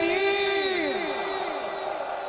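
Large crowd at an Urs gathering for Khwaja Zinda Peer answers a Nara-e-Takbeer chant with a loud, sustained unison shout that swells and slowly fades.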